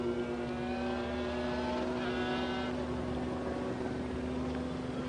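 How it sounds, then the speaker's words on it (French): Two McLaren race cars run side by side down the Hunaudières straight at Le Mans in 1995, with a steady, loud engine drone and rising whine that holds on without a break. "Et le voici Dalmas qui attaque Andy Wallace, les deux voitures côte à côte dans la ligne droite des Hunaudières."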